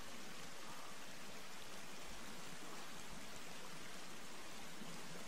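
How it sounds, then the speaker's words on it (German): Flowing water in the survival video game The Forest rushes as a steady, faint hiss of broadband noise, unbroken and even throughout. "Das Wasser kommt."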